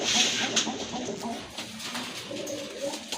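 Breeding pigeons, a pair in a loft, coo softly and repeatedly at close range over a steady low background hum, with faint clucking calls mixed in.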